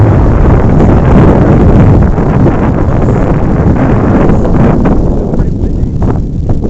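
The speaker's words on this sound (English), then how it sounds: "Pretty windy, but it really wasn't as windy just a second ago" Strong wind gusts hard into the microphone at a beach during a tornado warning, a loud, continuous rushing roar that stays heavy for several seconds before easing slightly near the end.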